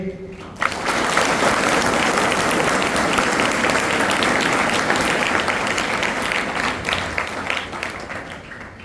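A large audience at a 2024 school entry festival bursts into loud applause to welcome a guest. The clapping starts abruptly, holds full and steady for about eight seconds, then eases slightly toward the end.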